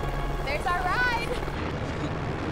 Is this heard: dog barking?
no